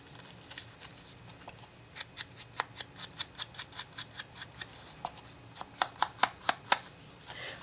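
Scissors snip through paper during a card-making and marker coloring session, a quiet series of crisp cuts that starts sparse and builds to a rapid run of sharper snips near the end, with no talking.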